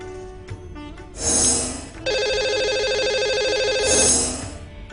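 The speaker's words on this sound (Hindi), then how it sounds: "एक बार फिर से लगाते हैं कॉल हमारे लकी कॉलर को" A telephone rings on a live TV call-in show as a call goes out to a caller: two loud electronic ringtone bursts separated by a long sustained trilling tone, close and clear, with no talking.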